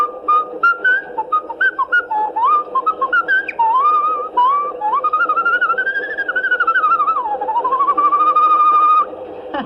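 Someone whistles the tune of Yankee Doodle alone, a clear, close melody of bright rising and falling phrases with short breaks between notes. It sounds loud and near, with no talking.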